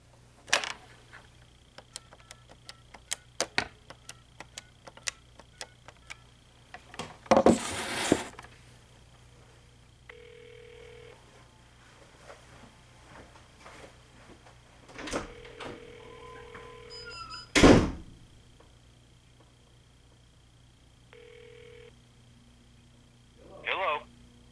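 A vintage General Electric 2-9175A 12-memory telephone dials out, giving a run of rapid clicks and keypress noises, then repeated steady tones and a few loud handling thumps.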